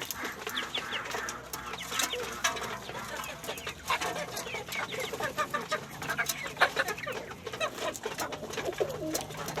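Pigeons in a coop feeding on lentils, with soft cooing, low clucking and scattered pecking and rustling, steady and close throughout at a modest level.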